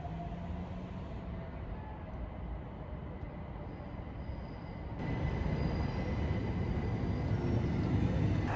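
Steady onboard rumble of a C2C Class 357 electric train in motion, a continuous low drone that grows slightly louder and rougher about halfway through as the ride continues.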